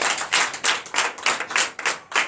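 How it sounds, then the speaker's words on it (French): A church congregation at a Sunday service in Comè, Benin claps in unison, sharp rhythmic beats roughly three per second, close and loud with no voices over them. "Donnez l'acclamation à Jésus."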